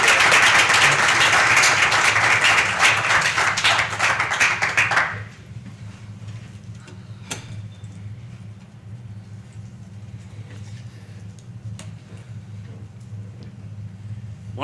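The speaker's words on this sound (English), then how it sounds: "Join me in a round of applause." A crowd at a county board meeting applauds loudly for about five seconds, dense clapping that then stops abruptly, leaving a quiet room hum with a few scattered taps.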